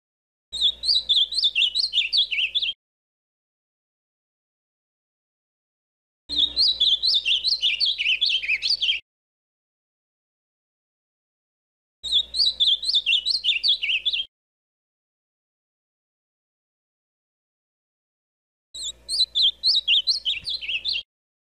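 A blue Brazilian bird whose females are cinnamon-coloured sings a melodious, chirping phrase four times, each lasting about two to three seconds, separated by silences of several seconds, clear and close.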